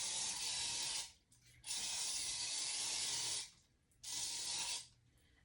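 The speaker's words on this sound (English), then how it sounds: "I'm spraying as I go" Ant spray hissing from an aerosol can in a kitchen, three steady bursts of about one to two seconds each with short gaps between them, close and fairly loud, with no voices.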